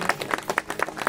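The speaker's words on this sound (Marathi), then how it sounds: "त्या आचार्यांसाठी सगळ्यांच्या एकदा जोरदार टाळ्या होऊ देतो" Audience applause for the cooks at a bhajan event in Pangri, Sangameshwar, Ratnagiri: a short burst of crowd clapping with rhythmic, fairly steady claps, moderately near.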